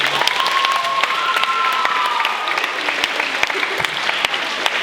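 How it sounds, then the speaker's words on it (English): An audience at a character conference gives a steady round of applause, dense clapping heard up close with scattered sharper claps standing out, and a brief sustained tone running faintly in the middle. "give a round of applause to everybody who's been pouring into your life"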